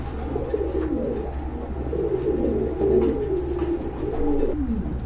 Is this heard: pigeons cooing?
yes